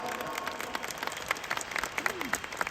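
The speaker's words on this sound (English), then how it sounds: "Can we all give our topmost leaders a round of applause today?" Applause from an audience for the top leaders at a Riway International event, a quick patter of claps with crowd noise and some talk mixed in.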